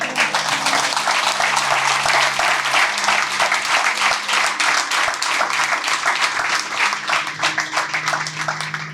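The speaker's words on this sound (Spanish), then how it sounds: "Denle un aplauso al Señor." Congregation applauding the Lord during a church service, steady dense clapping that fills the whole stretch at a fairly loud, even level, with no talk over it.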